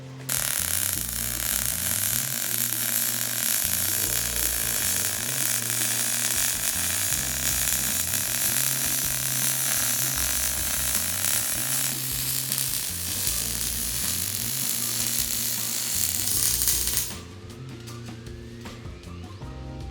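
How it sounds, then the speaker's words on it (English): A MIG welder lays a weave bead, a steady loud crackling sizzle that runs unbroken for most of the stretch, then drops away abruptly near the end, with no talking. "Now let me show you guys a weave with the same settings."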